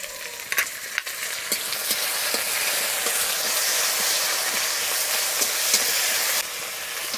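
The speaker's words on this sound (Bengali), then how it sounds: "এবার মশলাটা কষিয়ে নেব ভালো করে" Ginger paste, garlic, onion, cumin and bay leaf fry in oil with ground spices, a loud steady sizzle close up, stirred with repeated scrapes and clicks, before dropping off sharply near the end; no speech.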